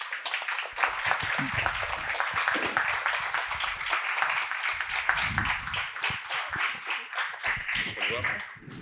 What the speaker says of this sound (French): Eh ben, on applaudit Constance.